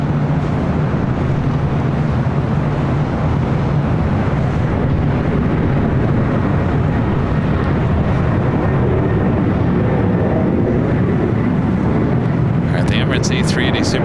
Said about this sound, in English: A380 Super taking the bridge route over there to the south side